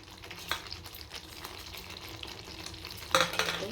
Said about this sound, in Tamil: நல்லா கலந்து வச்சுக்கிறோம்.